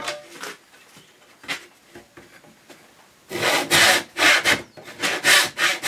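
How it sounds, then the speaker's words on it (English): A tenon saw cuts through a wooden box lid, at first in a few soft, sparse strokes, then in a loud, quick rhythmic run of close rasping back-and-forth strokes, with no voices. "This tenon saw is a little bit too big for this job."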